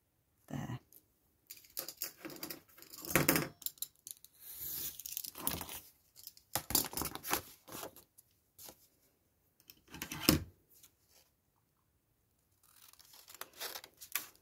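Scissors snip and slice through craft material for flip pockets in irregular bursts of crisp cutting and paper rustle, close and fairly quiet, with pauses of near silence between strokes.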